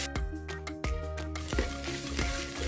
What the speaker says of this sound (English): I'm going to add another tablespoon of olive oil in the same pan and add the onions and the garlic.